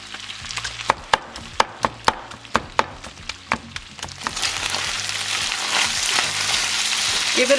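Beef head meat for tacos de cabeza crisping in a hot pan, starting with a run of sharp knocks as the pieces are worked, then settling into a steady, rising sizzle.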